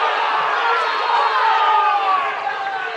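A crowd in a gym at a high school basketball game murmurs and calls out together in a steady, dense wash of voices that keeps up without a break for about three seconds.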